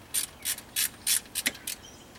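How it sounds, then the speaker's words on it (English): Allen socket on a ratchet loosening the timing chain guide bolts on a Toyota Celica engine, giving a series of about six short, close clicking ratchet bursts with brief pauses between them. "take one of these Allens on a socket, and I'm going to loosen the one guardrail that is still applying tension to the chain"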